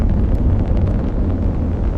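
A Delta IV rocket with its main engine and two solid rocket motors firing during launch roars as a heavy, continuous low rumble with crackling texture, steady and loud throughout.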